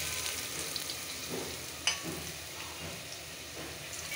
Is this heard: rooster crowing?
no